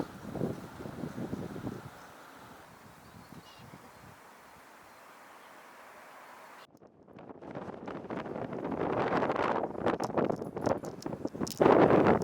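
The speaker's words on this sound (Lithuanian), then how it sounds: "Labai vėjuota, tai daug nekalbėsiu nuo šito objekto" Strong gusty wind buffets the microphone outdoors beside a church in Kaunas, a rumbling roar that dips quieter mid-way, then surges back louder and more turbulent toward the end.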